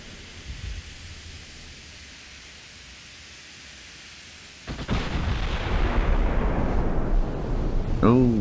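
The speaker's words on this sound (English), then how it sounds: "There we go, there's another main gun hit." Naval main gun firing and hitting in the warship game Ultimate Admiral: Dreadnoughts, a sudden heavy roar that swells midway and holds as a loud rumbling wash under quiet ambience.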